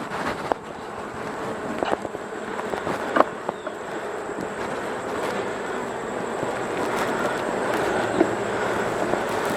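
Honey bees buzz around an open hive during an inspection, a steady close drone with occasional nearby clicks and handling noises, no voices.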